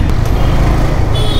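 Traffic jam on a Dhaka street on a Friday, a steady low rumble of idling cars, trucks and buses filling the air with dense, continuous roadway noise and no clear horn or voice.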